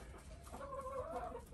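Backyard chickens cluck softly near their coop, a few faint, low, close calls over quiet ambient noise.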